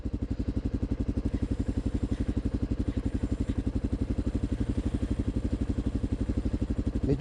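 Off-road motorcycle engine running steadily with a fast, even low-pitched pulsing throughout, revving lightly under throttle blips, loud and close, no talk.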